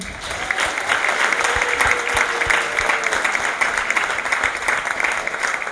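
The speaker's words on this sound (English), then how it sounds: "Can we just get one more round of applause for all of our performers tonight?" An audience at the Wakefield talent show applauds loudly and steadily for the full stretch, a dense, continuous wash of clapping with no break.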